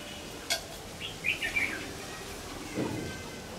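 Red-whiskered bulbuls chirp in the evening outdoors, a few short, fairly faint calls scattered over a quiet background with one lower burst near the end.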